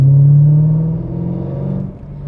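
BMW E92 M3 V8 with a modified active exhaust revving hard: a loud, deep engine note that swells at the start, then eases and fluctuates as the revs drop, heard up close with no talking.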